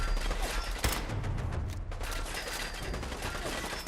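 A gamma gun firing in Fallout 4, a dense, sustained burst of crackling weapon noise with a sharp crack near the start, heard without talk.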